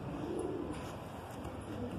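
Pigeons cooing in a loft where pet pigeons are kept, soft low throaty coos layered over steady outdoor background noise, fairly close and continuous.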